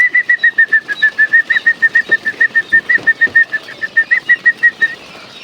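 Restless quail chicks in a winter brooder give a rapid, regular run of high peeps, about five each second, near and clear with soft rustling beneath and no talking.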